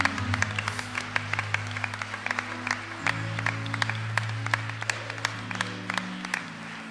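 A church congregation claps together in a dense, steady burst of applause over sustained low musical tones, the clapping lively and close throughout.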